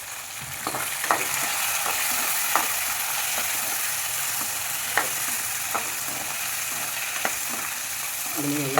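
Onions, shallots, garlic and ginger fry together in a pan for a traditional chicken curry masala, giving a steady sizzle with occasional scraping stirs of a spoon, close and continuous, with no talking.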